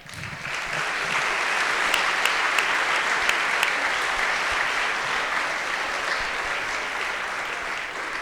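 An audience at a 2024 athletic awards ceremony gives the whole team a round of applause: continuous, full clapping from many hands, steady and loud from start to finish with a few sharper individual claps standing out.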